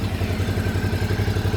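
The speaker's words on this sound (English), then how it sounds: "let's start the bike up" A 2017/2018 Suzuki V-Strom 650 XT motorcycle engine starts up and idles in neutral with a fast, steady low throb and a mechanical clatter on top, close and continuous.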